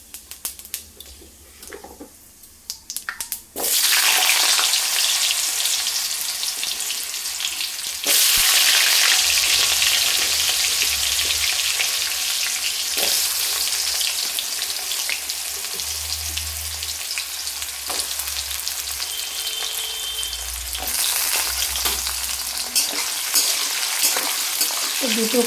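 Potatoes and sweet potatoes fry in oil with panch phoron spices, a loud, steady sizzle that starts after a brief quieter moment and intensifies partway through, continuing without a break.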